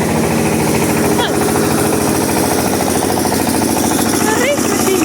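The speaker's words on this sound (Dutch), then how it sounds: "We hebben hier wel een mooi trekker of zo." Tractor engine running near a backyard in Tetebatu, Lombok, a loud, steady, rapid chugging throb that goes on throughout at close range.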